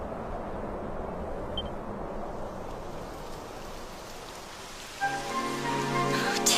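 Rain falls steadily as a constant broadband hiss across the whole stretch in Dragon Quest XI S, with a brighter tonal sound entering near the end over the continuing downpour.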